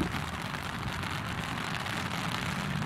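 Steady rain falls outdoors at a sports match, a dense, even hiss of drops hitting surfaces that stays loud and unbroken throughout, with no voices.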